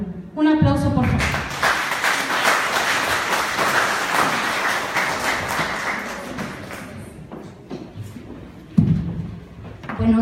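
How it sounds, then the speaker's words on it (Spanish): Applause rises from an audience at a medical conference session on diabetes self-care, a broad wash of clapping sustained for several seconds with a voice speaking over part of it. "Un aplauso, por favor."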